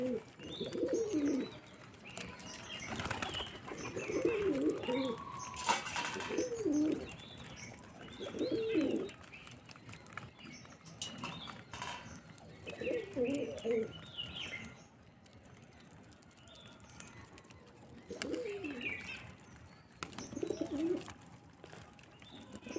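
Pigeons in a coop coo in repeated low, throaty bursts, fairly close, with soft chirps and occasional wing flutters over a busy ambient background.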